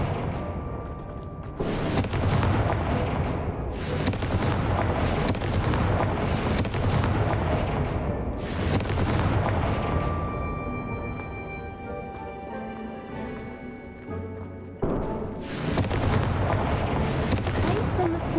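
Confringo fire spell explosions in Hogwarts Legacy, a series of loud bursting booms repeating every couple of seconds with crackling tails, then a final blast after a quieter stretch.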